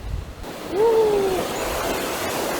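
Water pours steadily from a waterfall beside a walking path in Kazakhstan, making an even, full rush of noise close by, with a brief high tone rising over it near the start.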